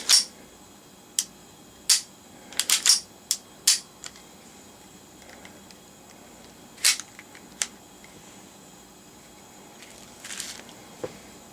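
Ruger 22/45 semiautomatic pistol dry firing, with a series of sharp, close metallic clicks in irregular clusters, some doubled as the trigger resets, separated by quiet gaps and a faint handling rustle near the end.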